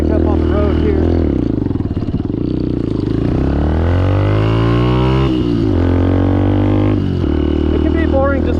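A Benelli TNT 135 motorcycle riding along a road, its small engine droning loudly and steadily with rising and falling pitch as it shifts and accelerates, wind rumble mixed in and a person talking over it.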